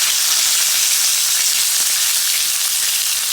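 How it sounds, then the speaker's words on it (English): Steady sizzle of pork chops frying in a pan, a continuous bright hiss with faint crackles throughout, fairly loud and close, no voices. "we're going to keep frying these about 3 minutes per side"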